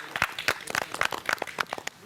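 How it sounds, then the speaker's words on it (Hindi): Applause for a contestant on a farmers' competition show, a loose burst of individual claps ringing out at an uneven rhythm, fairly close and moderately loud, with a bit of crowd noise beneath. "तो देवी दीन जी के लिए जोरदार तालियां।"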